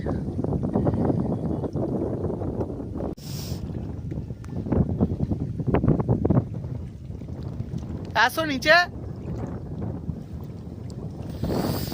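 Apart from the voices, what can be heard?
strong cold wind by river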